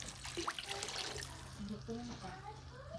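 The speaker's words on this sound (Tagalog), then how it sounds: "And lalagyan na natin siya ng water." Water is poured into a cooking pot for boiling noodles as part of a home fiesta meal, a steady splashing trickle running throughout while a person talks over it.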